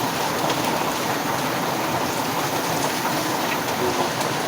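Heavy rain pours down in a dense, steady roar that fills the whole clip without a break, loud and close, with no voices.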